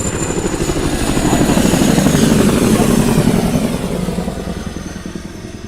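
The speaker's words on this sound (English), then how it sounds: "You should see a Chinook coming in." A Chinook twin-rotor helicopter flies inbound at an airshow, its dense rhythmic rotor chop swelling louder as it approaches and then easing slightly while it stays close and steady.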